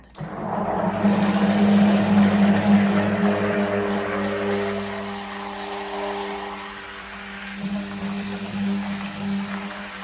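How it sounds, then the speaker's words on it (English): Immersion blender whirring through a mixture of cooled lye solution and lard for homemade bar soap, a steady close motor hum with sustained tonal whine that holds loud then eases slightly and swells again. "Now you want to use an immersion blender to blend."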